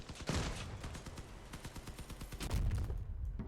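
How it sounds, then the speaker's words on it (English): Cannon blasts and rapid gunfire crackle in a vehicle combat battle in the video game Crossout, a dense, steady stream of sharp shots with heavier booms mixed in. "somehow one cannon shot to the back of my car takes out a few things"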